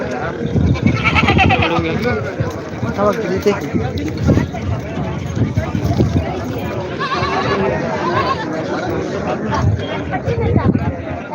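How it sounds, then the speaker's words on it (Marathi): Several goats bleat repeatedly, close by, over a busy crowd of people talking and chattering in the background at a goat market. "या ठिकाणी बकऱ्या पण आलेल्या आहेत मित्रांनो शेळ्या पण आल्या"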